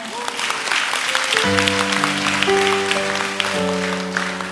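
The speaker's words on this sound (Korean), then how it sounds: "한번 박수해 주세요" A congregation applauds at a New Year's Eve church service, the clapping steady and moderately loud as sustained keyboard or organ chords come in beneath it.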